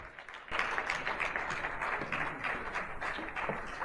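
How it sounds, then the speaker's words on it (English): A sudden burst of applause from an audience welcoming Dr. Mike Omotosho to give the welcome address. The clapping is steady and fairly full and carries on to the end. "With a resounding round of applause, please, let's welcome Dr. Mike Omotosho to deliver the welcome address"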